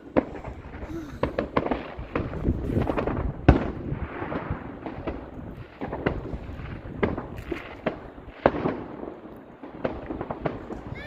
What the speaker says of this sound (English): The fireworks are cool, aren't they?